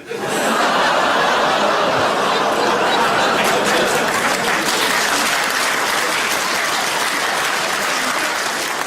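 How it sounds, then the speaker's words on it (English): Loud crowd applause mixed with laughter and chuckles at a Jimmy Carr stand-up comedy show in London, a full, continuous roar of clapping that rises quickly and holds throughout. "A round of applause?"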